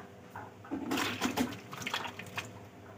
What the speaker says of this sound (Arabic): هنبدأ نكب مية. يفضل انها تبقى مية دافية او مية سخنة